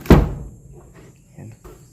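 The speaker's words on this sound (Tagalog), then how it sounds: "Sasara natin itong pinto guys" A house door is pushed shut with one loud, close thud at the start, followed by faint creaks and soft knocks in a quiet room.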